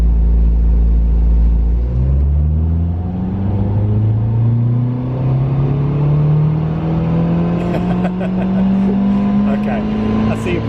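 Ford Fiesta ST180 engine on a dyno during a full-load run, a loud close rumble that climbs steadily in pitch as the revs rise, with faint talk near the end.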